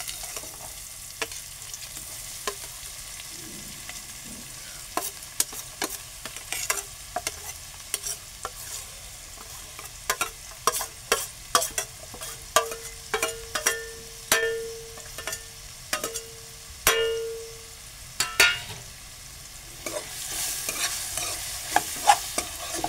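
Chopped onions, tomatoes and curry leaves fry in a pan under a soft, steady sizzle, with a spoon scraping and clinking against the pan again and again at an uneven pace, close and with no voices.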